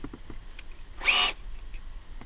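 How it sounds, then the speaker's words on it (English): A single short burst of a power drill whirring for about a quarter second while installing a short-throw shifter in a Mazda6, close and fairly loud, with quiet background otherwise. "all you have to do is get a nice drill"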